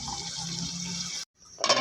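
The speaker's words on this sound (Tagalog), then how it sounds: "Sabay po natin ng tubig, isang tas ng tubig." A cup of water poured into pork bopis cooking with bell pepper, a steady broadband rush of liquid for about a second, a brief break, then a louder splashing burst at the end.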